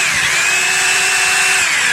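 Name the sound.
Diamond hammer machine running in drill mode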